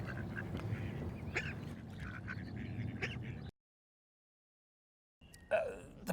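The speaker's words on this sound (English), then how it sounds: "I love these wee ducks" Ducks quack by a riverside pond in Knutsford, several calls scattered over a steady outdoor background, then a pause and a louder burst of quacking close by.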